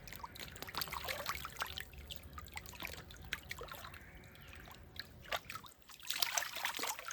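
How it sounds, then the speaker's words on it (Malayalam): Water trickles and splashes steadily as it is poured in to refill a monster fish pond holding a large redtail catfish, a continuous close gurgling stream with brief louder surges, no voices. "എത്രയും പെട്ടെന്ന് വെള്ളം നിറയ്ക്കാൻ നോക്കാം."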